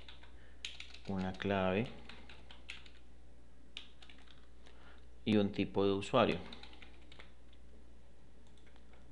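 Keys on a computer keyboard click in light, rapid taps beneath someone speaking Spanish, with the typing running quietly under his two short phrases.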